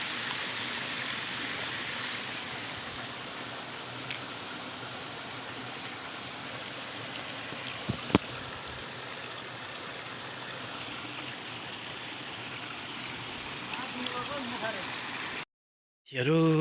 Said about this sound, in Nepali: ल है झरना, टापको यताको झरना हो यो